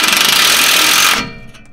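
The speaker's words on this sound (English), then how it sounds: "Luckily we have an impact, so make sure it's all loosened." Impact wrench loosening exhaust bolts on a Volvo 240 wagon, a loud rapid rattling hammer that runs for about a second and then cuts off abruptly.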